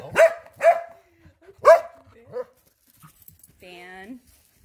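A corgi recovering from a knee ligament injury gives three sharp, close barks and a softer fourth, then a short whimpering whine after a quiet pause.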